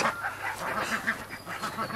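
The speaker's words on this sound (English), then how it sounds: "Ducks." Ducks in a walk-in mobile duck tractor give repeated nasal honks and quacks in an uneven, overlapping rhythm, close by and moderately loud, with no talking.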